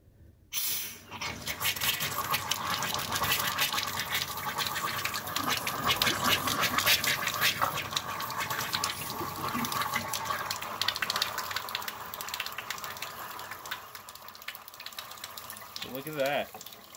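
Steady rushing water from a faucet runs continuously, loud and close, with a brief low voice near the end.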